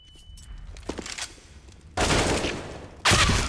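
Gunfire in a Counter-Strike esports match, two loud dense bursts of rapid automatic shots following quieter scattered game noises.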